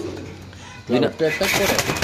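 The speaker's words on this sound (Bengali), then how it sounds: "এই জায়গা আছে হলো এক জোড়া কবুতর" Soft coos from white racer pigeons come through while someone talks over them at a pigeon market, the calls brief and fairly close.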